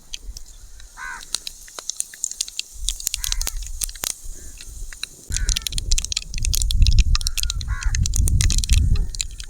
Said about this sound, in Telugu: నూనె కాగింది ఆవాలు వేస్తున్నా జీలకర్ర కొద్దిగా